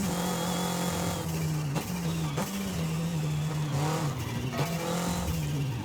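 Toyota MR2 engine driving in Forza Horizon 5, a steady droning hum that repeatedly dips and rises as gears shift and the throttle lifts, with faint tire noise under it.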